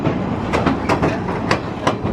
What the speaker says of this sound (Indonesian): Sekarang kita udah di dalam kereta guys